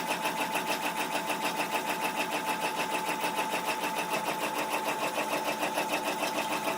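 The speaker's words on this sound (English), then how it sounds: "Now the machine is going to stitch out the congratulations" An embroidery machine stitches felt fabric in a fast, steady mechanical whir, its needle beating in an even rhythm, close and continuous with no pauses.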